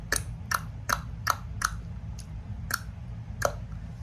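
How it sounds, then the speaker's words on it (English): Eight or so sharp tongue clicks pop at a fairly even pace, close and crisp against a low background hum, with no talking. "When I teach clicking with clients"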